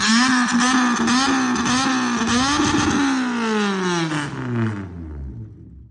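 A Dolphin motorcycle with a loud exhaust revs up and then winds down, a rough, buzzing engine note that rises and settles before dropping away to quiet, close and alone.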